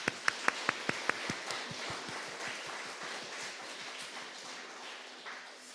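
A church congregation claps in welcome at a Sunday service, beginning with a few sharp, separate claps that quickly grow into a steady, soft patter of many hands, fading slightly toward the end.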